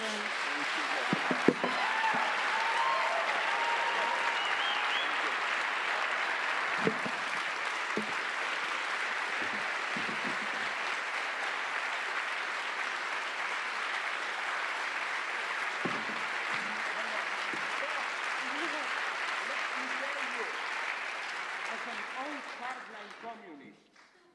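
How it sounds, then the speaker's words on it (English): Sustained applause from a large audience at a 2017 Slavoj Žižek lecture on populism, steady and dense throughout, fading out at the very end. "Save the applause"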